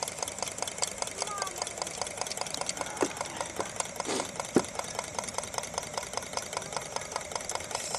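A homemade wood-fired hot-air Stirling engine driving a generator runs with a fast, even mechanical ticking and knocking rhythm, steady throughout, with a couple of brief clanks and faint voices in the background.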